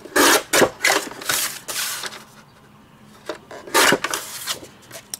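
Craft paper being cut down to a 5 3/4 inch square, heard as a few close, loud bursts of slicing and rasping with quiet pauses between strokes.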